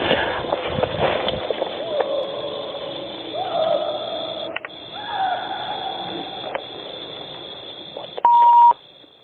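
Talking is cut by flat electronic tones, ending in a loud, sustained censor beep lasting about half a second.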